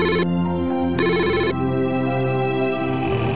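A bright electronic telephone ringtone plays in repeated melodic bursts with short gaps, close and loud, with no voices over it.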